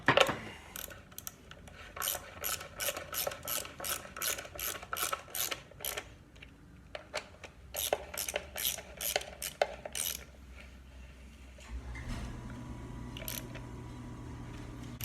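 A ratchet wrench clicks in quick repeated bursts while snugging timing cover bolts on a Perkins 152 engine, several rapid runs of ratcheting, close up, ending with a low steady hum.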